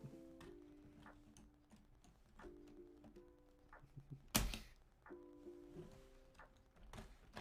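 Keys of a built LEGO grand piano model clacking, light plastic clicks and ticks in uneven bursts, with one louder clatter midway, quiet and without talk.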